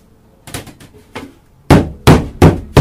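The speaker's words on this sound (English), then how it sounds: "Give it a bang, knock everything off." A wooden Langstroth beehive box is banged to knock propolis and debris loose: a few light taps come first, then four loud, sharp thuds in steady succession, close and alone with no talk.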